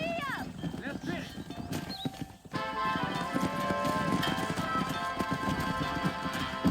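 Galloping horse hooves in the video game Red Dead Redemption, a fast continuous clip-clop close up beneath game music and a voice talking.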